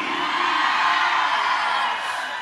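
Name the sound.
ululation (uruli) by wedding audience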